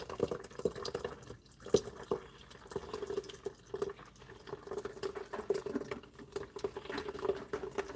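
Homemade nut milk trickles through a strainer after being made in a nut milk maker, producing an irregular patter of drips and splashes under a low steady hum.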